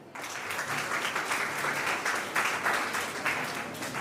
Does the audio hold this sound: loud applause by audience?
yes